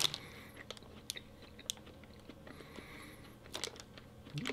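Someone chews a crunchy, sugary vegan marshmallow close to the microphone, producing soft irregular crunches and clicks spread through a quiet room, with sharper bites near the start and end.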